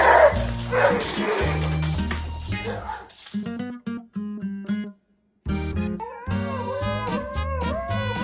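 A dog barks and yips in a quick run of close, loud barks, then gives whimpering, whining cries after a short silence, with other household sounds blended in around it.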